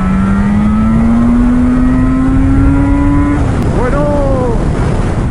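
A Yamaha RD 500 two-stroke motorcycle revs up with a loud, rising engine whine as it accelerates to overtake, then shifts with a brief drop and climbs again, heard close from the rider's position under wind rush.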